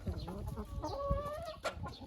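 A Liven chintz hen clucks in a few soft, close calls with a short drawn-out tonal note in the middle, amid faint low rustling and background noise.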